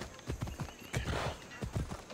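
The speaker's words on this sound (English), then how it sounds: "That damn horse." Hooves clip-clop in a quick rhythmic gallop as a horse runs in the video game Assassin's Creed Odyssey, with a loud whinny rising in the middle, close and clear.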